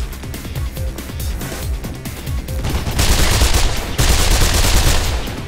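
Rapid gunfire from the video game Mirror's Edge rattles in quick bursts, loud and close, with sharp repeated shots that build into a dense, sustained barrage, and no voices over it.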